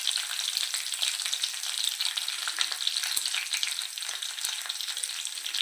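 Dry red chillies frying in hot oil with garlic, curry leaves and cumin, a steady close bright hiss of sizzling that runs unbroken with a few faint clicks.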